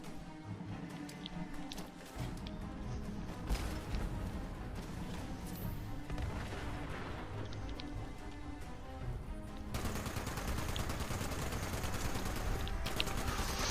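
Sustained automatic gunfire in a Fallout 76 roleplay fight against raiders, dense rattling bursts and shots layered over a busy game soundscape, continuous throughout and growing harsher toward the end.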